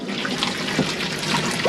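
Water runs steadily from a mixer tap in an Elddis Signature 195 caravan, driven by the onboard water pump, a continuous close hissing splash with no voices.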